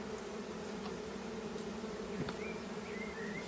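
A dense, steady buzz of a honeybee swarm being collected and smoked toward a hive entrance, close and continuous, with a few individual bees droning past.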